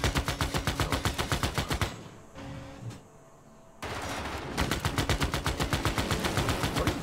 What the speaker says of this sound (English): Why would you attack with a Cossack?